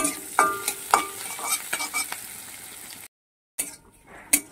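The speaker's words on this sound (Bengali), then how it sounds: "পেঁয়াজটা ভাজা ভাজা হয়ে এসেছে" Onions fry in a pan with a busy close sizzle and repeated spatula scrapes and taps, then a brief dead silence before the sizzle and a couple of sharp knocks return.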